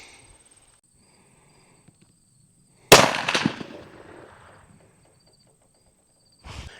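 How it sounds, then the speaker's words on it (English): A muzzleloader rifle fires a single shot loaded with 90 grains of Blackhorn powder: one loud, sharp blast whose rumbling echo fades over about a second, with a faint steady high tone in the background. "first shot at 90 grains of Blackhorn powder"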